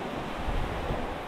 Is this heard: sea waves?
yes